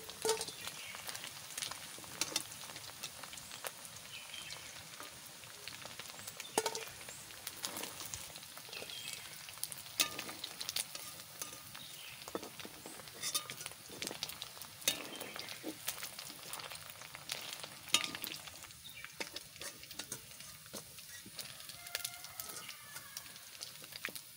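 Chicken pieces for chilli chicken fry in oil with a quiet, continuous sizzle and scattered soft pops and crackles, fairly faint and steady throughout.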